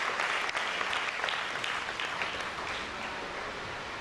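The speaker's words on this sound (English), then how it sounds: "Can we have a big round of applause for Kalpesh parents," An audience at a felicitation function claps for a topper's parents, a dense sustained round of applause that holds for several seconds and slowly eases off.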